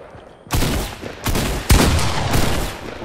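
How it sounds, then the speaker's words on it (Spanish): Bursts of loud gunfire in a video game in close succession, a few rapid volleys with one sharp crack standing out, continuous and near with no talking. "También le disparo a bocajarro."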